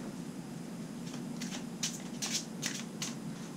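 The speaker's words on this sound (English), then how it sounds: "Shuffle the deck of cards." A deck of cards shuffled for the flower-potting board game Blossoms, heard as several quick riffling bursts in the second half, close and fairly soft.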